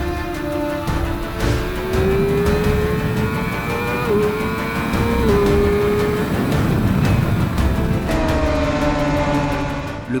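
A car on road tyres pushes through a timed lap on a race track, its engine droning steadily with rising and falling pitch as it shifts, loud and continuous, with wind and tyre noise underneath.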